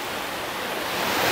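Ranidhara waterfall in Kanha National Park makes a steady broadband rush of falling water. The roar is continuous and fairly loud and swells slightly toward the end.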